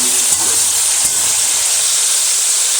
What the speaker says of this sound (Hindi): ये देखें, हमारा चिकन जो है ना ये फ्राई हो रहा है।